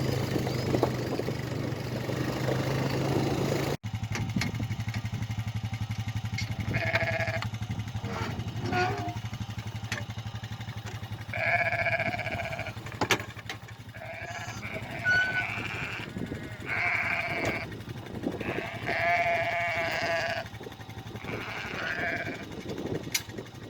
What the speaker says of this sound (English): A happy sheep and a happy lamb